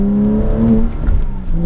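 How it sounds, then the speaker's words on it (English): Porsche Cayman S engine revving close by, a smooth, loud, steady engine note with a brief dip in the middle before the revs climb again, with no voices over it. "It's a very precise engine. It feels very smooth, and it just sounds good."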